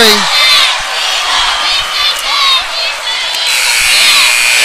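A high school basketball crowd in a gym roars and cheers during a game between Greene County Tech and Beebe, loud and sustained with whoops and whistles rising over the din, and a voice talking beneath.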